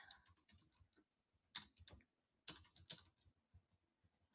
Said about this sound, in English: I'm just typing a quick giveaway.